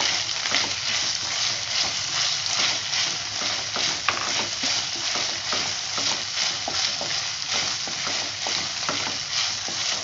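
Chopped capsicum stir-fried in a pan for egg Manchurian, with a steady loud sizzle and repeated scraping stirs of a spoon against the pan, no voices.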